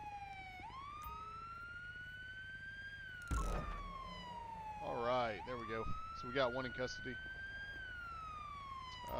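Police car siren in the LSPDFR video game, a long rising and steady wail that holds through most of the clip, with a short yelp-style warble in the middle, while someone talks over it.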